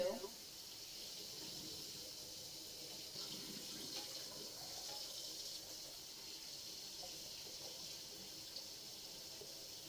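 Water runs steadily from a kitchen tap while dishes are washed in the sink, a soft continuous hiss with faint clinks, and a voice talks quietly underneath.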